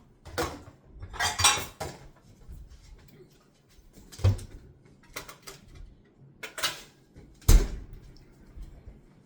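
Dishes and utensils clatter while a mixing bowl is handled in a home kitchen during salad prep, with several separate bursts of clinks and knocks, a couple of sharp thuds and brief pauses between them.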